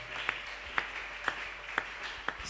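A church congregation claps together in a steady rhythm of sharp, evenly spaced beats, about two per second, over a faint room background.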